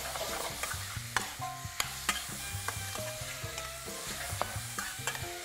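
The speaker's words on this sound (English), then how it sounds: "Keep it moving, keep the meat moving around so it's getting seared on all sides." Lamb meat and garlic sear in a hot pan for a lamb stew, a steady close sizzle running under repeated sharp scrapes and knocks of a utensil stirring the pieces around.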